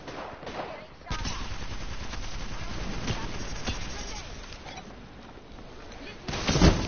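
Rapid gunfire in the video game Apex Legends, with bursts of automatic shots rattling over a continuous battle din and a louder flurry near the end.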